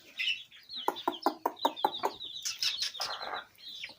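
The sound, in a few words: chickens and chicks clucking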